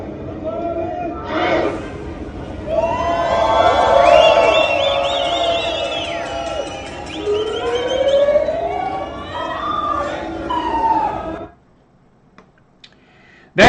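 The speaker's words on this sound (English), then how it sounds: "The chant of abolish ICE rings out before the crowd erupts into cheers" A street march crowd chanting to abolish ICE, then erupting into loud, dense cheers and shouts with overlapping voices that run on for several seconds before cutting off abruptly.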